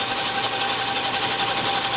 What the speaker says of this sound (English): I've got to drill the hole 3 inches deep.